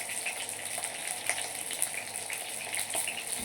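Thin-sliced vegetables stir-fry on a high flame for a quick varuval side dish, a continuous close crackling sizzle with small stirring clicks throughout, no voices.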